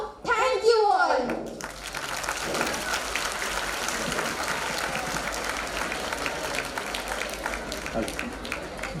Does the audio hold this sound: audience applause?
yes